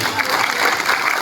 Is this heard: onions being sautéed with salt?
no